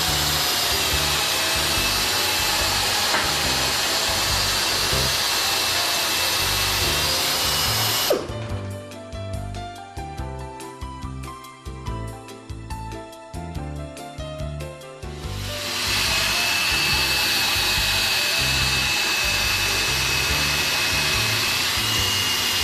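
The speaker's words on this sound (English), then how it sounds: "Attach a carbide cutter to a 500 RPM slow-speed air drill" A 500 RPM slow-speed air drill with a carbide cutter, working on a tyre puncture, whines steadily for several seconds, a high grinding buzz that starts abruptly and cuts off, with a loud hiss of air surrounding it.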